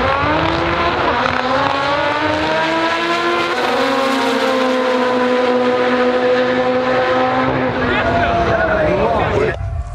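Drag racing cars roar down the Santa Pod Raceway drag strip, a former main runway, with a loud engine note climbing and shifting through gears over several seconds before cutting off sharply, voices around.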